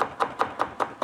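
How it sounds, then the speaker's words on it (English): A knife chops parsley on a board for an herb crust, six evenly spaced chops in a brisk, steady rhythm, close and clear with no voices. "Chopping up the parsley."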